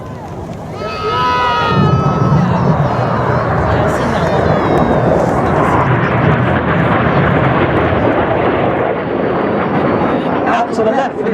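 Red Arrows RAF display jets roar past at an air show, a loud sustained broadband rush with whining tones early on, mixed with crowd noise and a commentator talking over it.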